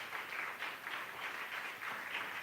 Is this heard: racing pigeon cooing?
no